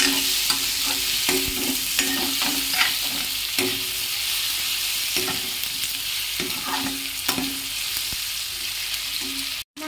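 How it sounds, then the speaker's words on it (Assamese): Potatoes fry in a pan with a steady, close sizzle, broken by repeated scraping knocks from stirring at irregular intervals, and no voices. "অকণমান ভাজ খালে মই আলুকেইটা দি দিম তাতে আলুকেইটা দি দিলোঁ"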